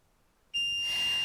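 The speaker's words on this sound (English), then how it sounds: "I'm going to wait for the audible beep" A foiling machine gives off a loud, steady high-pitched electronic beep that starts suddenly after quiet and holds unbroken to the end.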